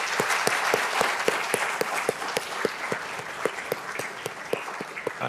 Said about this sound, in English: can we give a round of applause to Dr. Schau and the committee that organize